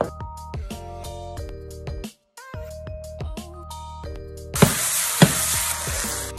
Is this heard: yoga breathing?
no